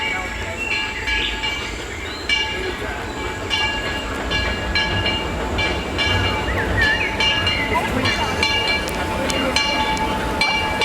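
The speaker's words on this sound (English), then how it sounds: "Ooh, I hear a train." A monorail train rumbles past in a busy theme-park setting, a steady rolling roar with faint rail clatter, heard under crowd chatter and voices nearby.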